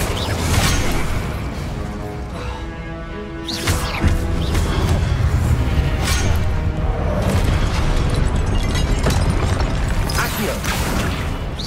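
Incendio fire spell cast repeatedly in Hogwarts Legacy, heard as a loud, dense wash of bursting, whooshing magic effects with booming hits, nearly continuous and without pause.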